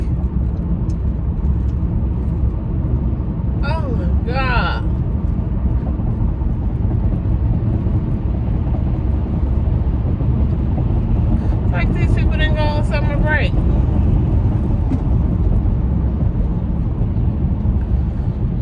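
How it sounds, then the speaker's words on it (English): Steady traffic rumble heard from inside a car driving in Los Angeles, a loud continuous low road and engine drone, with people talking over it in two stretches. "Why is there so much traffic?"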